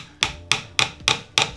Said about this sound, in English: So now I'm gonna use this pick and drive it in with the hammer.